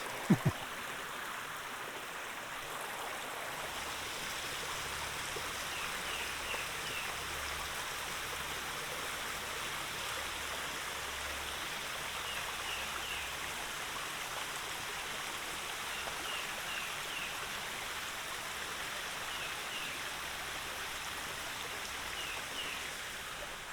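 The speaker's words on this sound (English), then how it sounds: "nice water source here" A small stream beside the Appalachian Trail between Pine Grove Furnace and Caledonia runs in a steady, broadband rush of flowing water, close and continuous, alone with no voices.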